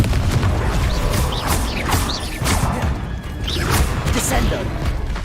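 Repeated Confringo fire-spell blasts from Hogwarts Legacy gameplay burst out in quick succession, each a sharp explosive crack with a whooshing tail, loud over a busy game soundscape.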